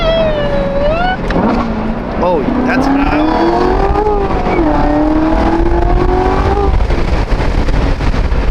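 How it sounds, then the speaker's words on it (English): Stock, intake-free supercharger on a manual Corvette whines and rises in pitch as the car accelerates hard, loud engine roar building steadily with people talking excitedly over it. "Oh my God, the supercharger."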